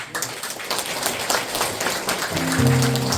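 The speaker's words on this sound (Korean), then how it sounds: "큰 박수" Applause at a Korean community celebration honoring elderly residents, as guests are introduced; a crowd claps steadily throughout, fairly loud, with a sustained musical tone entering near the end.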